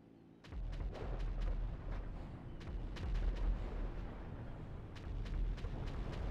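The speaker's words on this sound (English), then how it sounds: "Beginning bombing run now." A bombing run in a video game, with repeated explosive booms and bursts landing in quick, uneven succession over a deep rumbling bed. No one speaks.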